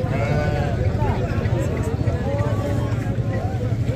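Goats and sheep bleat in wavering, overlapping cries at a crowded livestock market, with people talking and steady background noise throughout.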